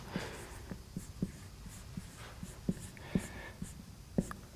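Chalk or pen taps and scratches on a board during a lecture, coming as sparse, irregular knocks and strokes over low room noise, faint and fairly close.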